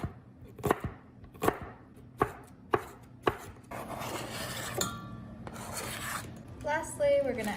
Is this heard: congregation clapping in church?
no